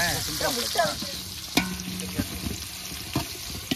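Onions fry in oil for a village-style chicken biryani, a steady close sizzle with stirring scrapes and clinks, while people talk nearby.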